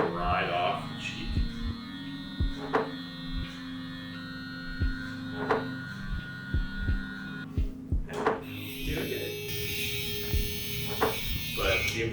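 Electric hair clippers with a 1.5 guard buzz steadily while tapering hair during a curly-hair barber cut, a close, low hum broken by soft tapping thumps, with a short change in tone near the end.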